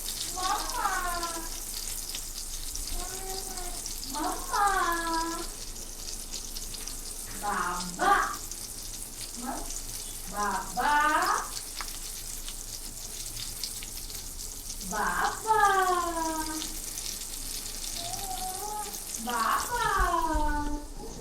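Stuffed surmai kingfish frying in a pan on a gas stove, a steady soft sizzle running underneath a child and adults chatting.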